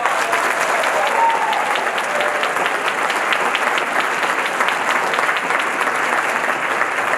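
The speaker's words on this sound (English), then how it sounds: "Give our musicians a round of applause." Steady, dense applause from a concert audience greeting a 2022 middle school all-county band, loud and continuous throughout with no break.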